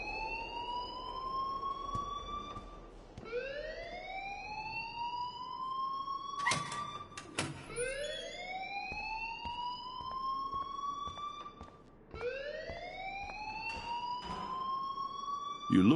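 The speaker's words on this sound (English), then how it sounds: "please turn off that alarm since that's your job" An alarm rings in the video game Life Is Strange: a loud electronic siren-like tone sweeping upward again and again in repeated rising wails, with a few sharp clicks between cycles and no speech over it.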